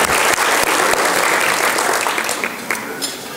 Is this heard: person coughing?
no